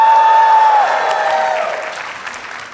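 An audience at a convention panel claps and cheers in a loud burst of applause that thins out over a few seconds, with one sustained tone fading under it at the start.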